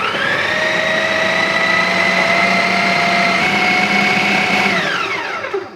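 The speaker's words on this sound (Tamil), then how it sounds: "அவலை போட்டுட்டு திரும்பவும் மிக்ஸ் பண்ணுறேன்" An electric mixer whirs steadily as red rice flakes are blended into cake batter, a loud, even motor drone that holds for several seconds before its pitch drops and winds down at the end.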